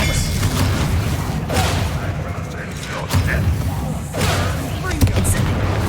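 The Expelliarmus spell is cast in Hogwarts Legacy as a series of loud, booming magical blasts and thuds, several sharp bursts over a rumbling battle bed, with a voice calling out amid them.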